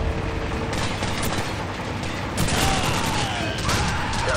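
Call of Duty 4: Modern Warfare flashbang bang followed by sustained gunfire indoors, loud and continuous with a sharp burst midway and ringing high tones after.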